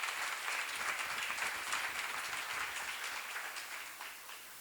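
An audience at a church seminar claps together, a dense crackle of many hands that stays fairly faint and tapers off toward the end.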